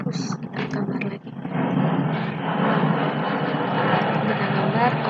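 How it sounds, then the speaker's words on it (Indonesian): An airplane passes overhead, a steady broad roar that swells and holds for several seconds after a brief stretch of indistinct sound at the start. "ada suara pesawat terbang ya"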